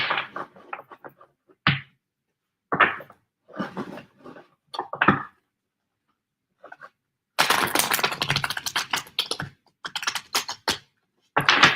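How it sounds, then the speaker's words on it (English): Tarot cards being shuffled by hand, a run of crisp riffling and flicking bursts that come and go, ending in a dense, loud stretch of rapid card slaps close by. "Let me shuffle these a little more."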